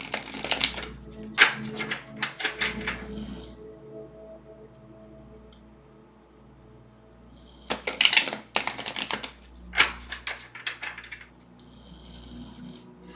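Cards are shuffled for a reading in two short bursts of dry, close riffling clatter separated by a quiet pause over a faint hum.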